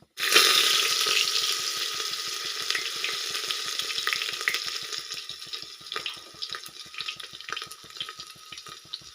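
Garlic hits hot oil with popped mustard seeds and bursts into a loud sizzle that slowly fades, with rapid, even crackling ticks running underneath.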